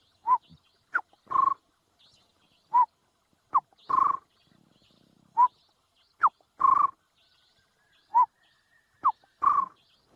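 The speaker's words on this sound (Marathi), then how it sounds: "स्कॉप्स आऊल नावाचे घुबड आहे, त्याचं नाव आहे ओरिएंटल स्कॉप्स आऊल. तर ते एका झाडावरती बसतं आणि आवाज करतं." An oriental scops owl calls from a tree in the evening: short tonal notes repeated at an even pace across the quiet night, clear and fairly close, with no other voices.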